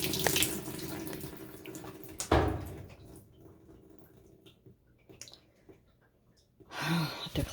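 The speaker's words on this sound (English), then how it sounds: "Get some water going on in here" Hot water rushes into a top-loading washing machine, a steady hissing flow that starts loud, drops lower, then swells again near the end, with someone speaking nearby and a lid bump.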